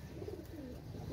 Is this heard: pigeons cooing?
yes